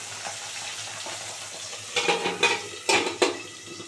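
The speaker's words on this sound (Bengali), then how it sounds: "এই যে এক পিঠ ভালো করে লাল করে ভাজা হয়ে গেছে, উল্টে দিলাম, আরেক পিঠ হোক" Bata fish fries in hot oil, a soft steady sizzle broken by a few sharp clinks and scrapes of a utensil against the pan as the fish is flipped.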